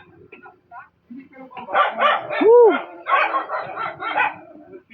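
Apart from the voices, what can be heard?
many dogs barking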